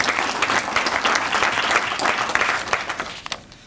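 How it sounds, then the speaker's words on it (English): An audience at a memorial lecture breaks into sustained applause, a full, even burst of clapping that fades out in the last moments. "I think we should give them a round of applause."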